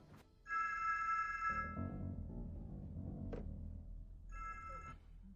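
A telephone rings as a call is placed, two bursts of electronic ringing separated by a stretch of low background noise and a faint click, moderately near, no talking.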